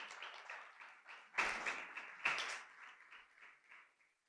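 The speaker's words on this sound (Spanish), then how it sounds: "¿Por qué no damos un fuerte aplauso a Dios por eso?" Congregation in a church breaking into brief, moderately distant applause, with two louder bursts of clapping that quickly fade.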